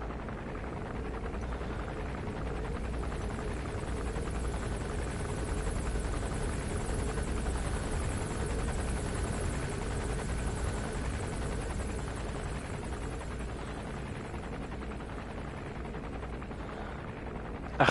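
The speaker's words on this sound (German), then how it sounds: "Ich hoffe, der Helikopter sieht mich jetzt nicht" Helicopter in the Metal Gear Solid V game on PS4, a continuous rotor drone and engine hum that holds steady and fairly loud for the whole stretch, with no talking over it.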